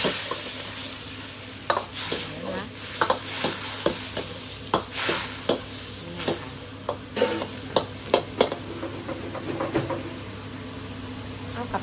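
Shrimp and egg are stir-fried in a hot pan, giving a steady sizzle with repeated scraping and clanking strokes from a spatula, close and continuous, with no talking.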